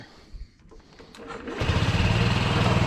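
A Honda Metropolitan scooter's small engine turns over and catches, then settles into a buzzing, fast-pulsing idle that stays loud and close for the last second and a half.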